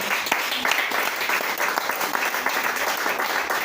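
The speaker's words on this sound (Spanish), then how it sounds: "Denle ese aplauso a Cristo" Steady applause from a church congregation fills a sermon service, dense clapping held at an even level throughout with a few faint voices mixed in.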